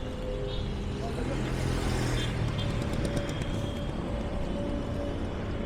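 Busy, rule-free street traffic in Cairo, Egypt, with no zebra crossings: a steady, loud wash of car and truck engines and passing vehicles, continuous for the whole stretch, with voices mixed into the roar.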